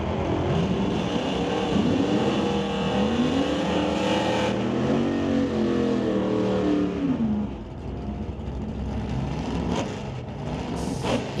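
A 1969 Ford Mach 1 fitted with a 428 Cobra Jet and only 11,500 original miles roars down a drag strip, its loud engine rising in pitch as it accelerates, then easing off and receding toward the end.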